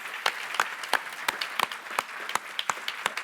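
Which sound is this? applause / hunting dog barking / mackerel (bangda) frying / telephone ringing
applause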